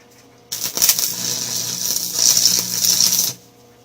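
An arc welder lays a 6011 rod onto a steel lawnmower frame, with a sharp onset of harsh, crackling sizzle that holds steady for about three seconds before cutting off abruptly, close and fairly loud.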